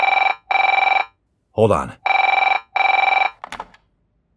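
Wall-mounted telephone ringing in an audio drama, four loud electronic bursts in a steady rhythm, with someone speaking briefly between and after the rings.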